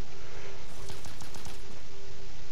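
Gunfire in the Bionic Commando video game: a brief burst of rapid shots in the middle of the clip over a steady background hum, with no talking.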